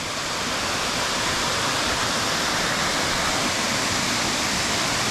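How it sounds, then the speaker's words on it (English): Hemlock Falls gushes after a rainstorm, a loud, steady broadband roar of rushing water heard up close and continuous, with no voices over it. "So here's Hemlock Falls."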